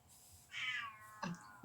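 A single cat meows close by, a rising and falling cry, followed by a short second chirp.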